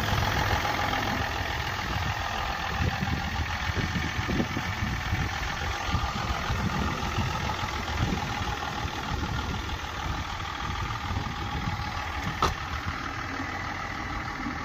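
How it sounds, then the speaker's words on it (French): A Range Rover L322 idles steadily just after starting, its turbo engine giving a constant close hum and rumble for the whole stretch with no voices. "Alors on vient de démarrer la bête. Il va donner. Voilà. Le beau petit bruit et le petit turbo qu'on entend"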